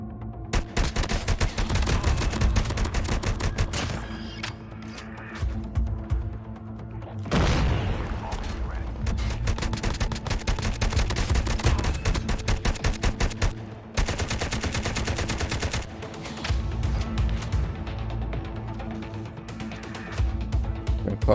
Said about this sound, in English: Maybe he just single fired you, as you'll see in the next few seconds.